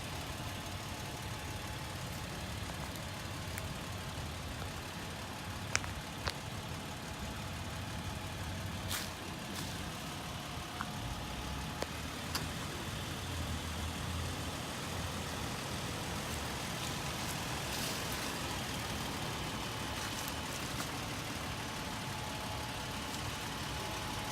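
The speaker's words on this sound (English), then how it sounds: "That's it at idle." A 2007 Toyota 4Runner Sport idles with a steady, even engine drone for the whole stretch. A few faint clicks sit over it, and no voices are heard.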